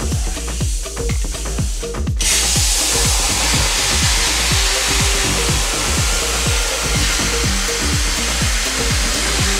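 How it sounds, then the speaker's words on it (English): Compressed air rushes through an Arcdroid CNC plasma cutting torch to cool it. A loud, steady hiss starts abruptly and continues over a rapid train of quick mechanical clicks, with no speech. "The air is continuing to go because it's cooling the torch off."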